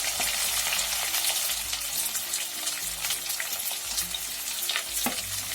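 Sliced onions fry in hot oil with mustard seeds for a coconut-milk chicken curry, a dense, loud, crackling sizzle that runs steadily throughout, close up.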